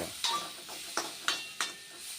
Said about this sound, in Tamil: வெங்காயம் நல்லா வதங்கணுமா வதக்கு வதக்கு வதக்கு